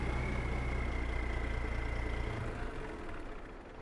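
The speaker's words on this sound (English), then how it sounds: "it's a semi sound instead of a tractor sound" A semi truck engine idles steadily in Farming Simulator 22 during a logging job, a continuous low rumble with a faint whine that eases slightly toward the end, no talking.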